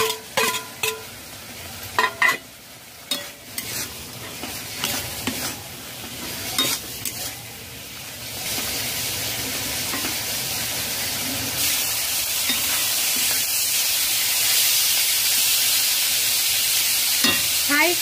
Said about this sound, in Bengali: মাশরুম ভাজা দিয়ে দেব।